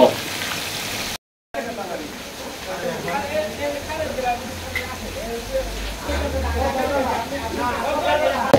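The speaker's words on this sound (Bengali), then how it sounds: "এখন ভাজি হচ্ছে আমাদের ইলিশ মাছটা" Hilsa fish frying in oil in a pan at a riverside restaurant, a steady loud sizzle and crackle running throughout with an outdoor hum underneath and one brief dropout.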